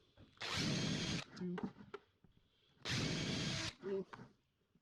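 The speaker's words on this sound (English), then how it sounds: "drill all of these holes with our pilot bit" Power drill with a pilot bit boring holes into a plastic lure storage bucket, two loud sustained bursts about a second each, separated by brief handling clatter, with a man counting aloud between them.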